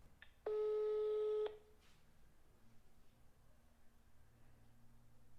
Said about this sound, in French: Attendez, je vais prendre le téléphone de papa pour appeler maman.